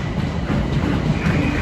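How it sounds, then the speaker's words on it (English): A Gatwick Express train rumbles at London Victoria station, a loud, steady low roar with rhythmic wheel clatter close by. "1459 Gatwick Express to Brighton. We're at London Victoria."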